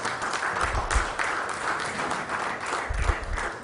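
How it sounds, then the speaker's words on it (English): A conference audience at a smart-cities event in Goa gives a brief round of applause, a dense wash of clapping at moderate loudness with low thumps, sustained for a few seconds. "A round of applause for Prashant, please, once again."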